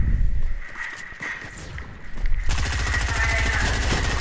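Gunfire in Fortnite, a steady rapid stream of shots running through the second half over constant game sound, following a busier stretch of in-game noise.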